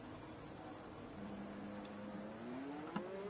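A Mercedes race car engine revs in a racing video game on a wet track, a faint, steady tone climbing slowly in pitch as it builds, low in level under a soft background hum, with no talk.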